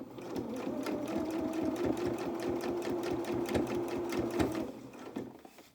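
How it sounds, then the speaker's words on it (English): A sewing machine runs steadily, stitching down the middle of a fabric channel on a small doll's twirling dress, with a fast, even needle chatter that carries on for several seconds before slowing to a stop. "You're just trying to sew just in the middle of that channel"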